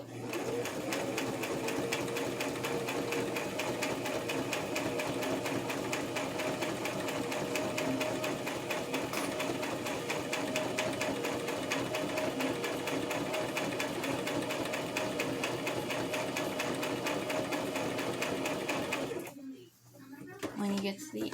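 A sewing machine stitching along the edge of a fabric face mask, a fast, steady, close mechanical chatter running continuously for about nineteen seconds before stopping abruptly.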